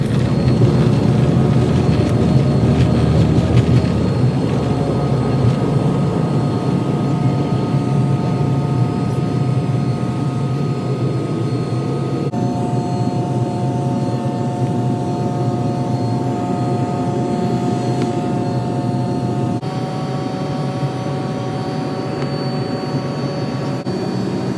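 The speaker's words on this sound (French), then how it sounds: "on est en train de se mettre sur la piste pour décoller" A steady jet engine drone heard from inside an airliner cabin as the plane taxis onto the runway before takeoff, loud and unbroken with a faint shift in pitch partway through, with no talk.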